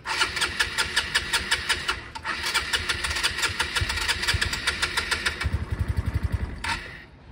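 A scooter or motorcycle starter cranks after winter storage in a fast, steady chugging rhythm for several seconds. The engine nearly catches with quicker, heavier pulses near the end, then the noise cuts off.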